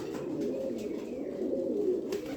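Low, continuous pigeon cooing murmurs nearby, a soft rolling drone with no other sounds standing out.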